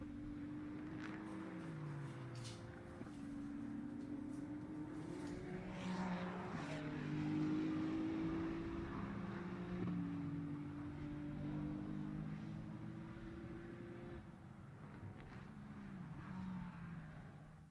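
Ferrari Challenge race cars circle the Laguna Seca track in qualifying, engine notes rising and falling as they pass at a distance, with overlapping tones from several cars.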